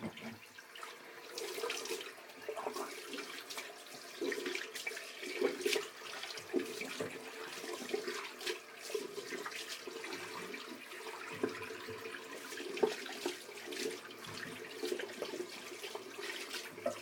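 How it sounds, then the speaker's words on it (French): Tap water runs steadily into a bathroom sink while it is washed, a faint, continuous splashing flow with small irregular spatters close by and no talking. "le plus essentiel c'est de laver le lavabo"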